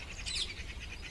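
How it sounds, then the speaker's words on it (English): Bird chirps ring out in the video game Under a New Sun, a steady high-pitched twittering that peaks briefly near the middle, heard alone over a low ambient hum. "I hear a lot of bird sounds."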